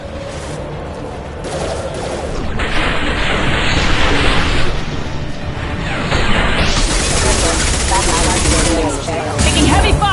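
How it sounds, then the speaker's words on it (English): Heavy, sustained gunfire in the sci-fi shooter Mass Effect 2, loud overlapping automatic bursts and impacts in a dense firefight, with a voice speaking briefly amid the shooting. "Taking heavy fire!"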